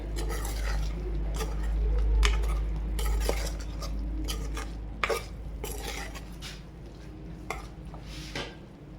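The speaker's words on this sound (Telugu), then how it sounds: "ఇప్పుడు ఎగ్స్ కూడా ఇందులో యాడ్ చేశానండి ఎగ్స్ కూడా మొత్తం మసాలా పట్టేటట్టు కలుపుకోండి" A spoon stirs eggs into a masala in a pot for egg dum biryani, scraping and clinking against the metal in irregular strokes over a low, steady hum and faint sizzle, close-up, with no talking.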